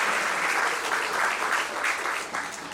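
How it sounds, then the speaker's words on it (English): Audience applause at an event honoring teachers held by a California assemblymember: steady, dense clapping from a sizable crowd that fills the whole stretch, with no talking over it. "So if you want to give them a round of applause,"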